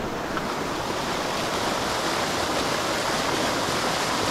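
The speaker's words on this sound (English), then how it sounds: "this was actually another little waterfall right here." Small waterfall in a mountain stream in the Blue Ridge Mountains, producing a continuous, dense rush of falling and splashing water, close and fairly loud, with no voices.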